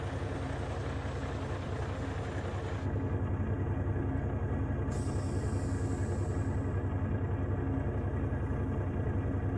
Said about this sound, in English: We've got a N14 Cummins. Pretty good sound.